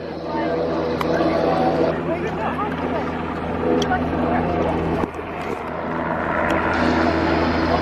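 An NH-90 helicopter flies a display at an air show, its rotor and turbine roaring loud and steady over the full stretch, with a commentator talking over it.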